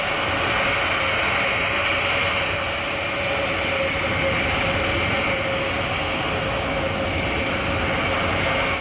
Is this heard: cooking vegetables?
no